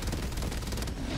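A rapid, dense autocannon burst in a video game, steady and loud throughout its short length, with no voices over it.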